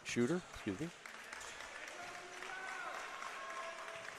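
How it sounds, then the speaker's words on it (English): A crowd cheers and applauds at a college men's basketball game as a player steps to the free-throw line. A steady, fairly distant roar follows a short burst of talk. "Junior Camacho comes out to some cheering from the crowd."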